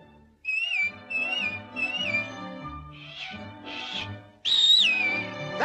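A melodic whistle rises and falls in several short phrases over a soft musical backing, ending on a louder, sustained whistled note.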